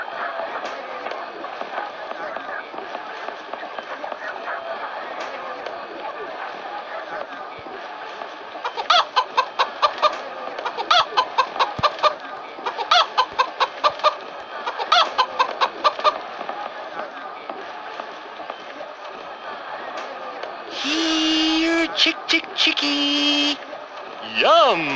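A chicken in the Gold & Glory: The Road to El Dorado PS1 game clucks in repeated short bursts, with a louder squawking run near the end, over steady game background sound and between spoken dialogue.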